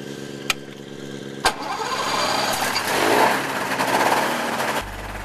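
A motorized hang glider trike engine cranks and catches after a couple of sharp clicks, then runs with a rising, uneven roar close by before it cuts off.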